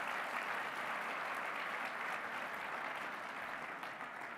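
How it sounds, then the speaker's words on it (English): Steady, dense applause from an audience honoring a returning co-host at the Bowerman athletics event, an even wash of many hands clapping that sounds distant and soft. "How about a round of applause for him?"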